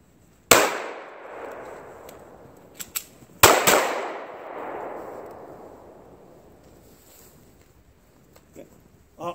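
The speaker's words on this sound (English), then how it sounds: "I'm going to jab the gun into my target, which is going to force a malfunction, which is then going to force me to have to clear the malfunction" A handgun jabbed into a target during a malfunction-clearing drill, with two sharp, loud reports about three seconds apart, each trailing off in a long echoing decay, plus a few small metallic clicks between and after.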